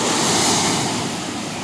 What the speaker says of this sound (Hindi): देखिए पानी का आप साउंड सुनिए